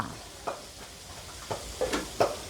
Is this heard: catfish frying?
yes